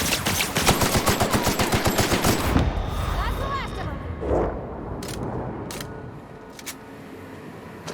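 A light machine gun fires a fast, loud burst of evenly spaced rounds in the video game The Outer Worlds, then cuts off, leaving scattered clicks, a brief voice and faint game ambience.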